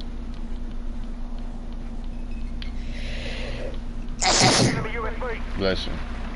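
A single sharp sneeze from a gamer mid-match, loud and close, bursting out over steady background hum, followed moments later by a smaller sniff or snort.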